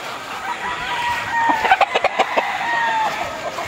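Roosters at a gamefowl farm in Bacolod Silay cluck steadily, with a burst of sharp, rhythmic calls and crowing in the middle, over a constant background of many birds.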